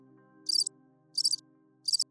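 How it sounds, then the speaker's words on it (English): Crickets chirping as a sound effect, three evenly spaced bursts of high, crisp trilling over a faint steady hum, with no voices present. "That's right, crickets."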